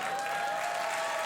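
Studio audience clapping on a late-night talk show, a thick steady wash of applause from many hands with a faint sustained tone running underneath.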